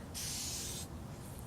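Spray paint can hissing onto bike parts in one sharp burst of under a second, close and bright, then stopping into quiet room tone.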